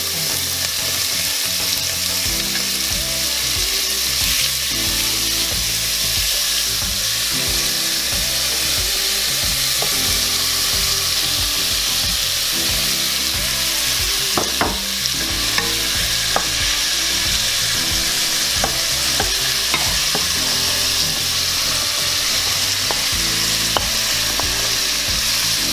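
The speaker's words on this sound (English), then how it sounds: "Sizzle." Sausage and chicken sizzle and crackle loudly in a hot pan, with steady frying noise and occasional scraping, under low background music.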